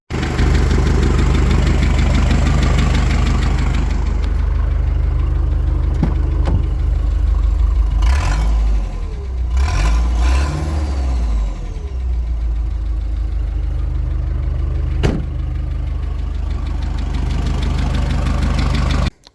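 A car, sold off as a lemon, idles with a steady low engine rumble, with a brief stretch of revving and clunks in the middle, recorded close and alone.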